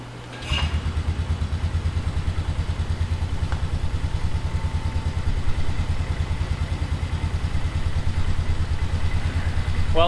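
Polaris ATV engine running at a steady, rapid idle, a close, even low-pitched thrum throughout with faint clatter, the battery too weak to crank it over.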